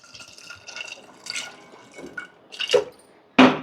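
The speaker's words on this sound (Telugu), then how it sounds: "అవి బఠానీ మునిగే వరకు వాటర్ వేసేసుకుందాం" Water splashes and pours in short bursts into a pot of dried peas until they are covered, with gurgling, drips and a final louder splash.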